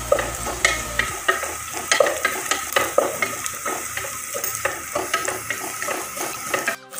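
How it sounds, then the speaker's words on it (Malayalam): Onions sauté in hot oil in a pressure cooker, a steady sizzle broken by repeated scraping and stirring knocks of a spoon against the metal pot, close and clear without talk. "കുക്കർ ചൂടായി വന്നിട്ട് അതിലേക്ക് ഞാൻ കുറച്ച് ഓയിൽ ഒഴിച്ച് കൊടുത്തിട്ട് ഓണിയൻ ഒന്ന്"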